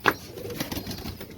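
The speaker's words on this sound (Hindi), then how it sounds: "तो ये एक कबूतर बाहर निकल गया लोक से।" A pigeon escapes from a loft with a quick burst of wing flaps at the start, then faint rustling as it goes.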